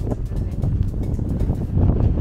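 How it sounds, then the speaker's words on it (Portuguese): Strong wind buffeting the microphone outdoors at a waterfront area, a continuous loud rumbling roar with gusty swells and no break. "o vento tá muito forte"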